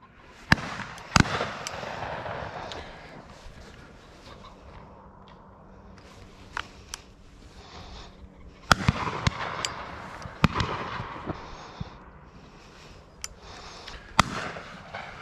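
Shotgun shots crack out at a driven pheasant shoot in Herefordshire, several sharp reports scattered at irregular intervals, some near and some distant, over faint outdoor background.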